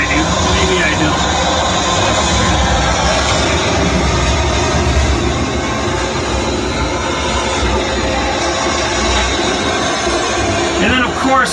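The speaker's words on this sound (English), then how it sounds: "that train's a little loud. Train going by." A loud, continuous rumbling roar of a passing train fills the whole stretch, steady and close, with a voice faintly present beneath the noise.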